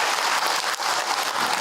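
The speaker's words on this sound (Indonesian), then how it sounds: "Tepuk tangan buat ibu-ibu" Applause for the mothers in the audience at an Islamic lecture, dense, continuous clapping that fills the space evenly for a moment with no talk over it.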